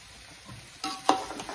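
Garlic and chopped onion drop into hot tempering oil for a village-style gavthi chicken curry, bursting into a close sizzle with a sharp crackle after a quiet start.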